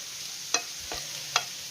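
Potatoes stir-fried in a pan for a Kerala potato mezhukkupuratti, giving a steady soft sizzle with a few sharp scrapes and stirring clatters spaced through the short stretch.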